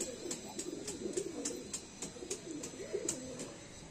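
A male Madrasi high flyer pigeon coos in soft, repeated throaty bursts, with a quick rhythmic clicking pattering over the top, close and moderately quiet throughout.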